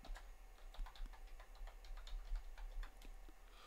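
Fingers type on a computer keyboard, a quick run of faint, close key clicks in an uneven rhythm over a low hum.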